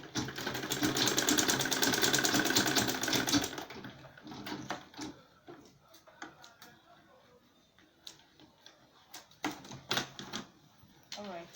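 A sewing machine runs in one steady, fast burst of stitching through an insulated lunch bag, then stops, leaving scattered clicks and handling taps.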